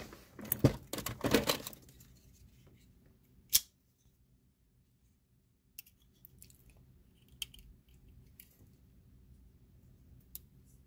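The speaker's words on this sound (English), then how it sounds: "We'll go ahead and actually cut that open real quick." Scissors snipping open the covering over a key on a challenge lock, a quick burst of close crinkly cuts at the start, then a few isolated clicks and light taps in near silence.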